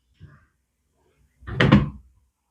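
A wooden dresser drawer in a cheap guesthouse room gives a small knock, then a short scraping slide as it is pulled open, close and alone.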